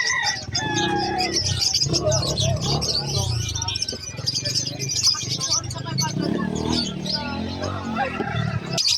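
Several caged birds at a bustling pet market, including a Lutino Opaline DF, chirp and call in dense, overlapping bursts beneath nearly continuous nearby conversation and crowd noise.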